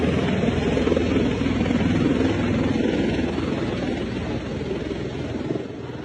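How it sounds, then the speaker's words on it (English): Loud, continuous rotor-and-engine roar of V-22 Osprey tiltrotor aircraft passing low over a suburban neighborhood, a steady dense drone that holds for the whole stretch with slight swelling and easing. "there are Ospreys landing in the suburbs"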